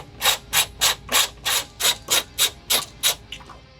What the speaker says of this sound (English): Then we're going to take our 10mm socket and simply unscrew it.